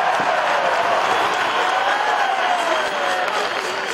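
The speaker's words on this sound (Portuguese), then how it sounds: "A torcida jogava junto em cada cesta." A basketball crowd cheering in the arena at Mogi das Cruzes, a loud sustained roar of voices with whoops and clapping rising and falling, plus a voice over the noise.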